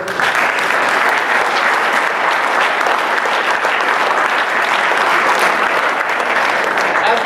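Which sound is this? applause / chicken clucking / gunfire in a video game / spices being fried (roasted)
applause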